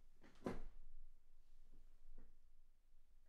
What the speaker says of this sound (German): Mein Stuhl ist ganz schön laut